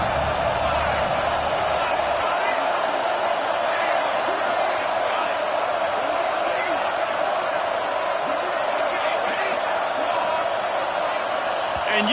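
A Georgia football stadium crowd roars continuously and loudly on a third down, a dense sustained wall of cheering and whooping from a huge crowd that never lets up.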